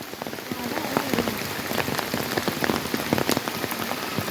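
Steady rain falling and pattering on surfaces near a hill temple, a dense continuous drumming of drops, fairly loud and close.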